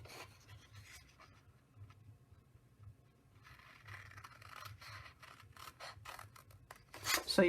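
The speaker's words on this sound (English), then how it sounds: "you're going to cut out your 4 corners like that" Scissors snip through paper card to cut out its corners, giving quiet, close scratchy cuts and rubbing at an uneven pace, with a louder crisp snip at the end.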